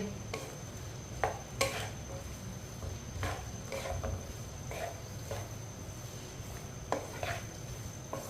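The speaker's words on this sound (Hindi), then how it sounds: "कटे हुए टिंडे डाल लेंगे। मिक्स कर लेंगे।" Chopped tinda (apple gourd) being stirred in oil in a pan, with intermittent scrapes and clinks of the spoon against the metal over a soft, steady sizzle.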